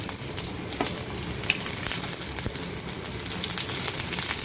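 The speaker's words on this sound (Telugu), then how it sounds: "క్యాప్సికమ్ వేస్తున్నాను." Capsicum pieces fry in a pan with onion and green chilli, a steady close sizzle with scattered crackles and pops, no speech.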